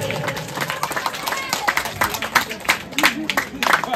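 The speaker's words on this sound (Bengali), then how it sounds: "একবার জোরে হাততালি" A crowd at a trophy ceremony claps in a quick, scattered burst of applause, nearby and fairly loud, with voices talking over it.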